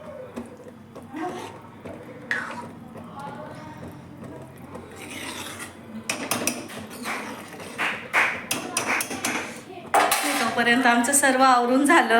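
Dishes and pots clatter and clink as they are scrubbed, quiet rubbing at first, then louder, busy bursts of metal knocking near the sink.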